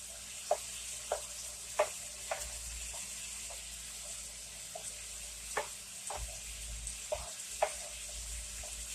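Tomato sauce with chicken simmering in a pan gives a steady, soft sizzle with occasional brief pops and stirring clinks, moderately close and with no talking.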